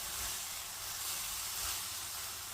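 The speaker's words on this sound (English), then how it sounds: "So now we're going to be frying on low heat." Onions for Sri Lankan seeni sambal fry in a pan over low heat, giving a faint, steady sizzle and soft hiss that stays even and quiet throughout, with no talking.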